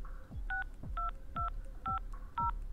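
Telephone keypad tones in the horror game Room 202, five evenly spaced dial beeps about half a second apart, each with a soft click, heard alone against a low background hum.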